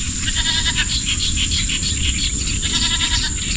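Several farm goats bleat in repeated overlapping calls, fairly close and loud over a constant high-pitched insect-like buzz and low background rumble.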